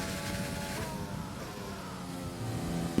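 An F1 car's engine in the F1 2020 video game, lapping Silverstone under throttle, a steady high-pitched whine that holds on through the whole stretch.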